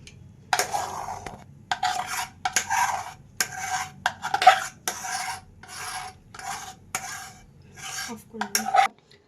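Cake batter poured and scraped into a cake tin for a Christmas cake, heard as repeated close rasping scrapes and utensil-on-metal rubs in short bursts with brief pauses between strokes.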